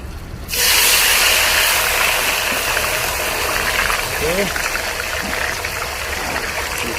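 French fries hit hot oil in a kazan cauldron, a sudden loud sizzle that settles into a steady, close hiss and bubbling, while a person talks over it.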